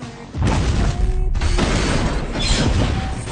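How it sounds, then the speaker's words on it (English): A massive explosion tears through a passenger train in an action movie scene, arriving as a sudden loud, sustained roar of blast and crashing debris that fills the whole clip after a brief quiet start. "a massive explosion tore through the train, killing everyone on board."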